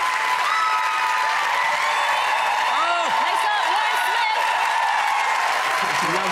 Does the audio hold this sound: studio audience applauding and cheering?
yes